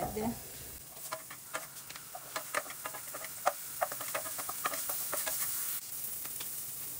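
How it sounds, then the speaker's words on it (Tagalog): Onion, garlic and ginger sauté together in a pan for chicken curry, a steady close sizzle under repeated light taps and scrapes of a stirring spoon. "igigisa ko na yung sibuyas, bawang at ginger"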